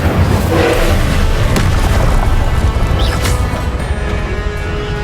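In Hogwarts Legacy, an Incendio fire spell lands with heavy, loud booming impacts and crashing bursts that roll on and fade slightly toward the end.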